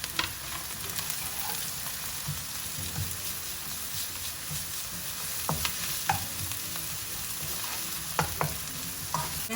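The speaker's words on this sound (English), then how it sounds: "I'm going to add the grated garlic and ginger and cook for another 2 minutes" Grated garlic and ginger fry in a hot pan for a fenugreek, peas and paneer curry, giving a steady close sizzle with occasional stirring scrapes and no voices.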